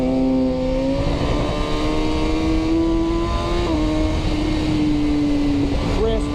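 A 2019 Kawasaki ZX6R motorcycle fitted with a Cordona PQ8 quick shifter, its engine droning loud and close, pitch climbing steadily with a brief dip at a gear change, continuous with no pauses.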